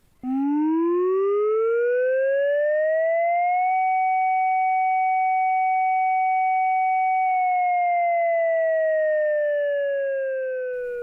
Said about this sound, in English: If you've ever wondered what Finland's public warning siren sounds like, this is it.